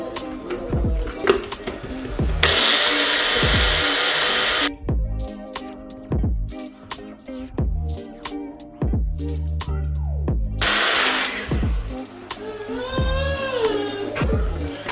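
A blender grinds regular sugar into powdered sugar in a home kitchen, heard as two loud whirring bursts of a few seconds each, separated by other busy background sounds.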